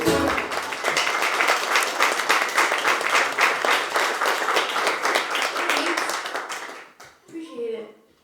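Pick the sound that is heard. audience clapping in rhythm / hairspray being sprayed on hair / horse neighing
audience clapping in rhythm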